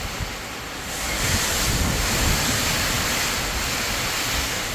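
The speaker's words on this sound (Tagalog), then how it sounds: "Lakas ang hangin." Strong typhoon wind in Batangas, Philippines roars steadily against the microphone, a loud continuous rushing that swells after the first second.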